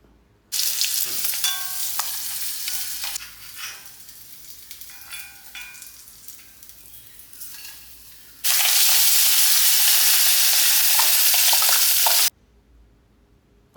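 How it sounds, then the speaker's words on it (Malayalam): Fish frying in a pan, a loud close sizzle broken by stirring scrapes and clinks, then a sudden louder burst of hissing toward the end before cutting off, with no talk. "മീൻ ഇവിടെ വറുത്ത് കഴിഞ്ഞു"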